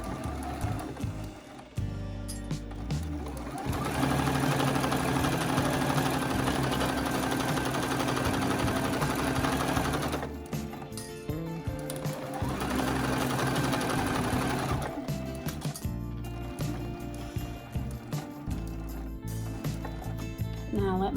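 A sewing machine stitches a pillow in close, repeated runs of fast whirring and needle chatter, stopping and starting between short gaps with small handling clicks.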